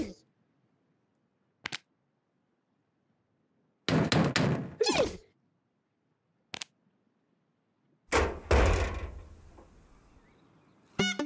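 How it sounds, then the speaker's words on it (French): Several sharp knocks on a door in the Twirlywoos children's show, sounded in separate bursts with quiet gaps between them. "Quelqu'un frappe à la porte."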